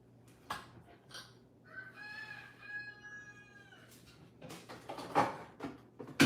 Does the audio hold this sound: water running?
no